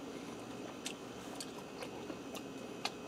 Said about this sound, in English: We'll start with a piece of sausage.